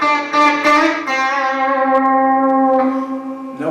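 Cheap, lightweight electric guitar with a single humbucker, strummed chords then a sustained ringing note that slowly decays, loud and close with a touch of effects, no talking.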